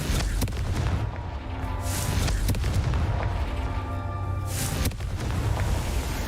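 Confringo blast spell going off in a Harry Potter video game: a run of heavy, booming explosions with rumbling tails, close and loud, with no talking.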